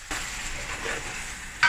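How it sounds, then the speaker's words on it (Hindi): Chicken frying in a pan with ginger garlic paste for a homemade chicken karahi, a steady close sizzle with a brief louder burst at the end and no speech. "दो बड़े खाने के जिंजर गार्लिक पेस्ट मैंने डाल के अब इसे इसके साथ भी अच्छी तरह फ्राई करेंगे"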